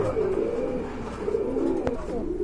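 A pair of black-laced pigeons coos steadily at close range, the low rolling calls overlapping without pause and broken once by a sharp click.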